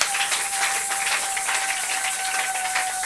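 A church congregation applauding during a worship service, dense sustained clapping at close range, loud and even throughout, with a faint steady tone running beneath.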